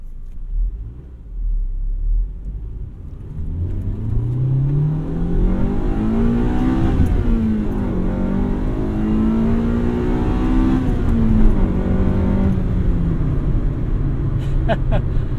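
A 2000 Honda Civic Si engine revving while driving, loud and close, its pitch climbing through the rev range, easing, then rising again in a sustained drone over road rumble.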